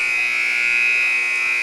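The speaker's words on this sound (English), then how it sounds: "there's the buzzer." A long electronic buzzer sounds in a high school gym at a volleyball game, one steady sustained tone held loud and alone for its full length.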